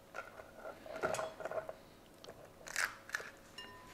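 A knife crunches through an Indian Ocean blue crab as it is cut in two in a kitchen while making crab curry, giving a few close, sharp cracks and crunching bites with dish and cutlery clatter; no talking.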